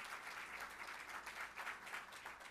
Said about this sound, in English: Let's give him a round of applause for coming across.